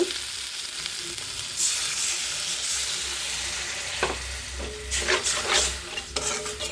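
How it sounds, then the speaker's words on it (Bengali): Fish masala for a rohu do piyaza being sautéed in a pan, a continuous hissing sizzle with bursts of stirring and scraping toward the end, close and without talk. "আগেটা কষিয়ে নিই মশলাটা"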